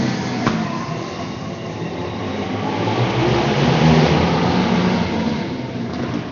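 Race cars accelerate together at a heat race restart, a dense continuous engine roar that swells toward the middle and stays loud throughout, with no talk over it.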